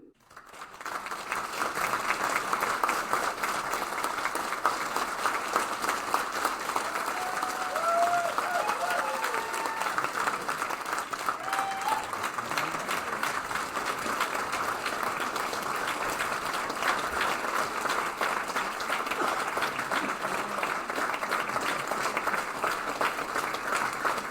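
An audience gives a university ceremony's honoree, a Peskotomuhkati chief receiving an honorary doctorate, sustained, even applause that runs steadily for over twenty seconds in a large hall.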